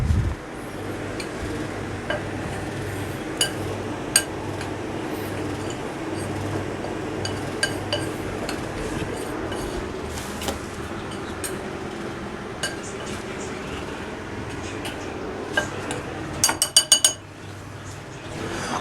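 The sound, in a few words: mixing baking powder into batter in a bowl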